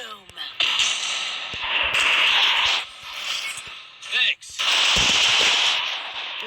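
Gunfire in a battle royale video game with headshots, played against bots: loud bursts of shots with sharp impact cracks, broken by brief pauses, while a person talks throughout.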